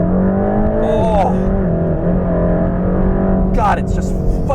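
A 2021 Mercedes-AMG GT Black Series supercar accelerating hard, its loud engine note climbing steadily through the gears with shifts along the way, heard close from inside while a person talks over it.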